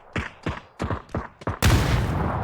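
Gunfire in the PUBG video game: five or six sharp shots in a rapid rhythm, then a cooked frag grenade bursts with a loud, sustained rumbling blast, near and without talk.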